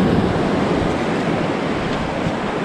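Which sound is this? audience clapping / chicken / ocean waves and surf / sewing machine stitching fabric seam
ocean waves and surf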